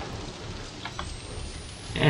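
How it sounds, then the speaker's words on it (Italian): Rain falls in the Outlast horror game as a steady, moderate hiss with a few faint patters, rising into a louder wash right at the end. "Quando vengono queste piogge, guardate quanta. Guardate quant'acqua cala"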